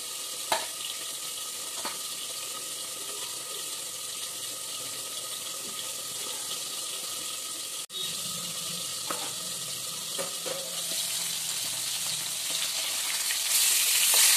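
Fish pieces fry in a pan with a constant soft sizzle, a sharp clack partway through, and the crackle growing louder toward the end.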